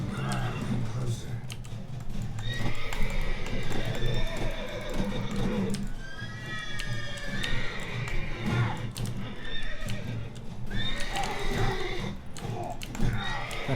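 Roach, the horse in The Witcher video game, whinnies in several bright rising neighs amid clip-clop of hooves, while a person talks over the game sounds and keyboard clicks patter in the background.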